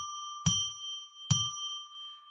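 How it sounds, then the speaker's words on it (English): A bell rung to open a live psychic radio broadcast: two clear, bright strikes about a second apart, each ringing on with a long, steady, shimmering tone and no talk. "I'm going to ring a bell 3 times to declare sacred space"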